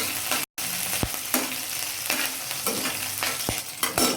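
Green chillies dropped into hot oil in a frying pan while making a chaulai bhaji, a close, steady sizzle broken by a brief gap and several sharp stirring clacks.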